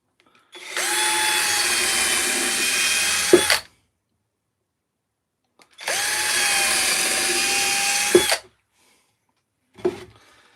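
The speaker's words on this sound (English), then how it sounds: "let's countersink these side now" Power drill countersinking holes in a wooden garden stool, two loud, steady whirring runs of about three seconds each with brief pauses, then a short final blip.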